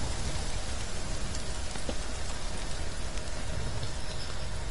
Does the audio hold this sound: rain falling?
yes